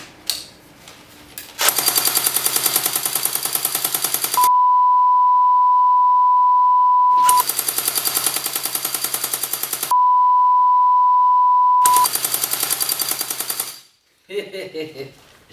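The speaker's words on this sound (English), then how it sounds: "this AK makes distinct sound when fired at you" Long bursts of rapid automatic fire from a CYMA blowback airsoft AK rifle, each run separated by a sustained steady beep tone, ending with a short clatter.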